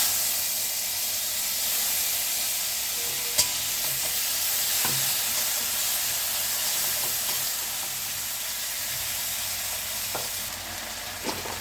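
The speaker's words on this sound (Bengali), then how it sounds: "কড়াইতে যেটুকু তেল আছে তার মধ্যে ফোড়নে দিয়ে দেবো তেজপাতা আর দিয়ে দেবো 5 ফোড়ন।" Bay leaf and five-spice tempering frying in a little oil in a wok for a vegetarian spinach dish, a steady broadband sizzle and hiss running throughout with a few faint clicks, no talking.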